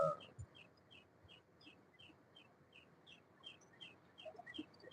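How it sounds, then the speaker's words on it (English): A bird chirps repeatedly in quick, regular high-pitched notes, fairly faint over a low background rumble. "look, you can hear the bird."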